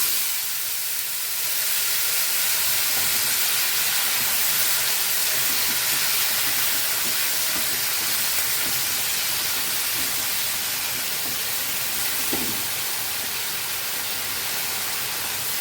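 Chopped mixed vegetables, drumstick, sweet potato and pointed gourd, tossed with salt and turmeric, hit a hot pan for a vegetarian curry, setting off a loud, continuous steam hiss that holds steady for about fifteen seconds with faint stirring underneath.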